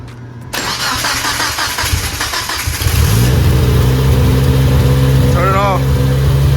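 A Mazda Speed Protege turbo engine cranks over and catches, then settles into a loud, steady idle close to the microphone, with a brief voice near the end.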